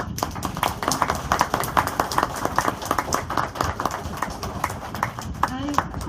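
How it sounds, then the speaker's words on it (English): Audience applause at a book launch for Patricia Ingle's "I Am Free", a steady run of many hands clapping fairly close, with voices mixed in throughout. "please give her a round of applause"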